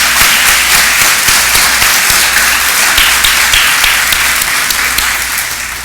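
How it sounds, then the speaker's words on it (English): Audience applause fills a nursing school white coat ceremony at the University of Pittsburgh: dense, steady clapping from a large crowd, loud and continuous throughout, tapering slightly at the very end. "I think that's something to clap for"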